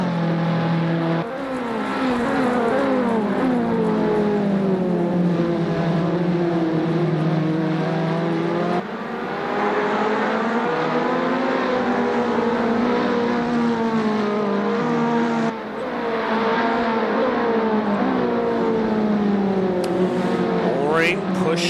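Dallara race cars in an esports racing video game whine through rising and falling engine tones, shifting pitch as they accelerate, while a commentator talks over the engines throughout.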